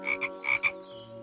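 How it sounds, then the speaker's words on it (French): A frog croaks in a few quick, bright, rhythmic pulses, two pairs of raspy calls close together, clear and near, with a steady hum underneath. "Ah, une grenouille!"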